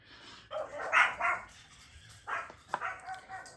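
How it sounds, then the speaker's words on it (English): A dog barks several times in short, uneven bursts at close range, with a few yips mixed in. "it's not a me video if it's not the dog barking"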